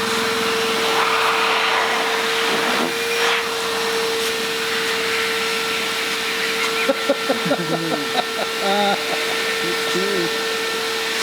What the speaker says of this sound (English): He's getting fed up with getting covered in fiberglass particles, so he's created this vacuum suit.